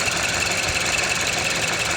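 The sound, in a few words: Mazda CX-7 engine idling and stumbling with a vacuum leak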